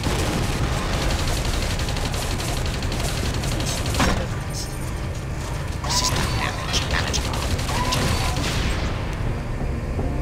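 Automated turret firing in the video game Deus Ex: Invisible War, a steady mechanical rattle of rapid shots with game noise and a few sharper bursts running continuously throughout.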